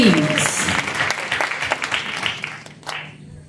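Applause from a memorial service crowd, a dense wash of clapping that starts strong and then thins and fades over a few seconds, with a steady low hum underneath.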